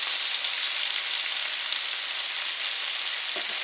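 Kung pao chicken frying in a pan, a steady dense sizzle that holds close and even throughout, with one faint clink near the end.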